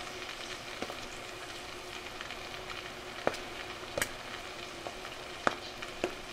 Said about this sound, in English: See, they do the popping sound